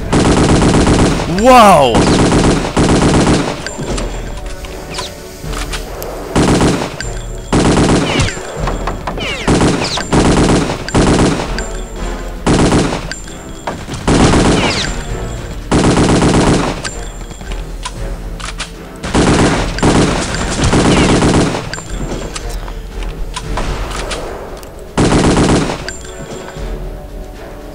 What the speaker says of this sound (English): I'm gonna go Tommy gun on this one.